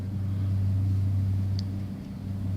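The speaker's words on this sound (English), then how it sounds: "There's the low temp machine" Low-temperature CO2 refrigeration machine running with a steady low hum and mechanical drone, close and loud, level throughout apart from a brief faint high tick, no talking.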